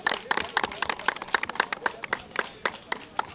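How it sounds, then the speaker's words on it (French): Rhythmic group clapping from a crowd at a school football tournament in Benin, sharp distinct claps in an uneven beat, fairly loud and close. "ce flux d'applaudissements que vous venez de faire"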